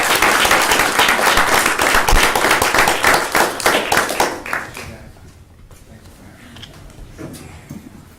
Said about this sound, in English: Let's give them a round of applause as they sneak off to do their homework.